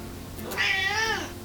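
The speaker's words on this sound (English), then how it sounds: "This cat seems determined to sit on my lap today" A cat gives one drawn-out meow, rising then falling, clear and close with no other voices.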